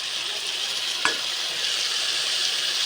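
Mustard paste stirred into hot oil for a home-cooked Bengali gravy, a steady broad sizzle with one short scrape or clink near the start, otherwise continuous and even.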